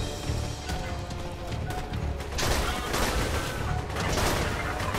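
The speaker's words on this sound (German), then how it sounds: "Zwei Magazine, beziehungsweise, ja, sechs Schüsse sind das, glaube ich, ne? Die ich in die reinsetze." Borderlands 2 gunfire comes as a rapid burst of sharp shots layered over busy game noise, with several louder cracks clustered late in the short stretch.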